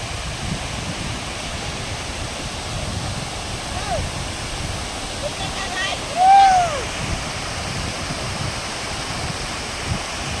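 Waterfall in a tribal village with low water flow, heard as a steady broadband rush of falling water at constant level, with a brief faint bird chirp partway through.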